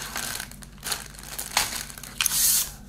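A still-sealed plastic bag from a Hasegawa 1/72 scale Grumman A-6A Intruder model kit crinkles and crunches close up in several short bursts, ending in a louder, longer rustle, with no talking.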